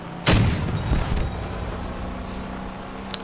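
One heavy cannon shot booms from a vehicle in the Crossout combat game, a sudden loud blast that trails off into a rumbling decay and engine hum.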